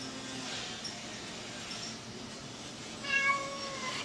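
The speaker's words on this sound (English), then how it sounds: "And my cat decides to join in." A cat lets out a short meow near the end, faint and brief over steady indoor background noise.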